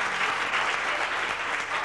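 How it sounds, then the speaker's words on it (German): Steady audience applause at a 1993 stage hypnosis show, a dense even wash of many hands clapping that stays loud and continuous throughout, with no voices rising above it. "Einen Applaus für die Damen und Herren."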